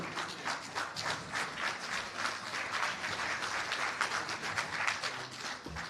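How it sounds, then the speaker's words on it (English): Workshop audience at a national services policy stakeholder consultation clapping steadily for the government, a dense, sustained round of applause at moderate distance with no talk over it. "you should give the authorities, I mean the government, a clap"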